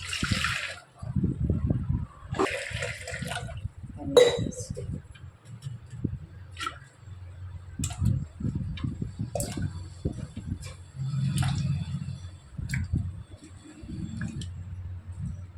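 Water splashes and trickles in short bursts as it is poured over tubers being rinsed, with people talking over it and some clattering nearby.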